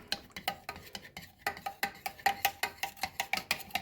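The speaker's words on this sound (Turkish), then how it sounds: "Şimdi bunu başlatmadan önce karıştıralım" A spoon stirs Turkish coffee in a small pot before brewing, giving quick, rhythmic scraping clinks that repeat several times a second, close and fairly quiet.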